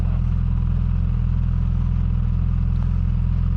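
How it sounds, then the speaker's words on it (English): Suzuki GSX S1000 inline-four idling through its stock exhaust, a smooth, steady low rumble heard close up, constant and unbroken with no voices over it. "stock exhaust sounds really nice."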